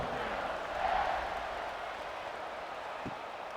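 Stadium crowd in the video game EA Sports College Football 26, a broad steady roar of many fans with a slight swell near the start, moderately loud and continuous.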